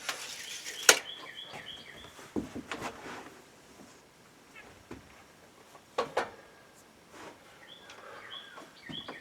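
Faint, distant bird chirps come in a couple of short bursts over quiet outdoor ambience, with a few soft knocks and taps.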